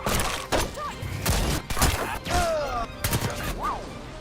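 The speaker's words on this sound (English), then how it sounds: "The rush of a perfect headshot like" Gunfire in a first-person shooter game, with irregular loud shots and impacts, a crunching hit and brief whooshing tones layered over a busy game mix.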